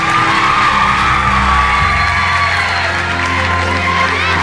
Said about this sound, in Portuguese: Nosso carinho mais uma vez para o Leonardo, os aplausos do nosso auditório.